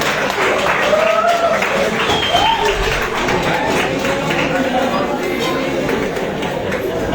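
An audience claps and cheers steadily for several seconds, a dense wash of applause with voices calling out over it.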